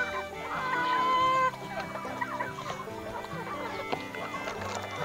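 Backyard hens clucking near the microphone, a cluster of short, rising calls at first followed by softer intermittent clucks and murmurs, with no talking.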